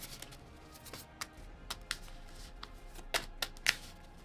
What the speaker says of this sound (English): Shuffle these as well, I should say.